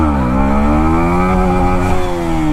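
A motorcycle engine holds a loud, steady high rev under load during a rolling wheelie at low speed, its harmonic drone rising slightly and continuous, close to the bike with no talking.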